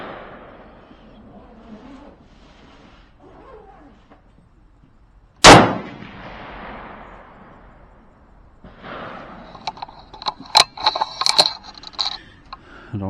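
A single sharp, loud rifle shot cracks out while zeroing at 100 yards, followed by metallic clinks and clatter of handling, with quiet murmuring voices before it.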